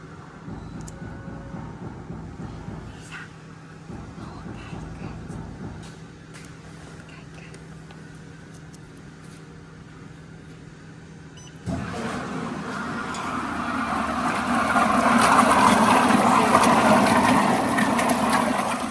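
The oil-water pot of a vacuum emulsifying machine starts up at the press of a button: a low mechanical hum runs quietly, then jumps louder partway through and swells into a steady whirring churn.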